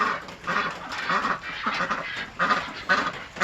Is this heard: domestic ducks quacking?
yes